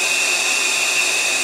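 A carpet cleaning machine with an upholstery tool fitted, running on a chair in a hotel in Hopewell, VA, giving a loud steady high-pitched whine and rushing suction with no pauses.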